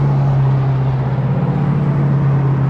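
Steady roar of highway traffic near Salida, Colorado, with a continuous low engine hum and tire noise from vehicles going by close at hand, no pauses.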